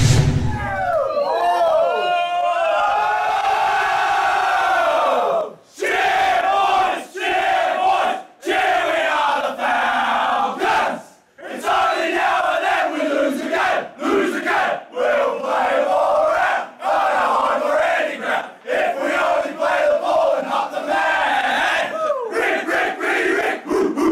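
Members of the Pioneer Union Falcons amateur football club chant their club song together, a loud, rhythmic mass of voices in shouted phrases broken by short pauses.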